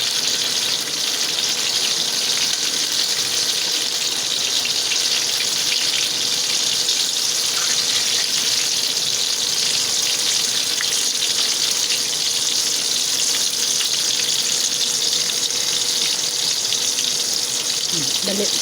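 Young, freshly harvested eggplant frying in a pan gives a steady, even hiss of sizzling oil that holds unbroken throughout, with no pauses or swells.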